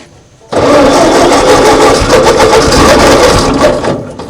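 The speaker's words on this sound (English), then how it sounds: "So seems like it's cranking best when it's almost totally closed." A 1939 Ford tractor engine, left sitting in a field for over 20 years, cranking loudly and steadily with the choke almost fully closed, a close, continuous churning that runs several seconds before easing off.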